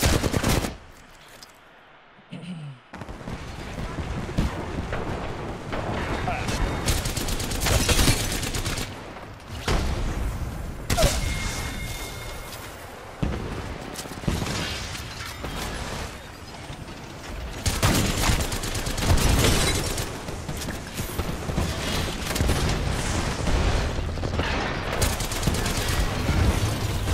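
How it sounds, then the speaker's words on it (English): Minigun fire in a multiplayer shooter video game: sustained, dense streams of rapid gunfire in long bursts, loud and continuous with brief gaps. "They have mini guns."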